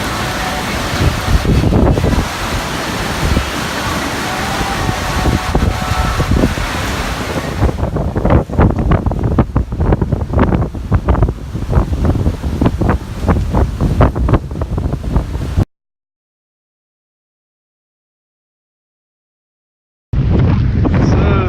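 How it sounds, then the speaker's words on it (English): Ocean waves surge and crash in a strong gale, with heavy wind buffeting the microphone in loud, rough gusts; the sound cuts to silence for several seconds before the wind and surf return. "I just wanted to try to get some footage of what the waves are doing in the wind"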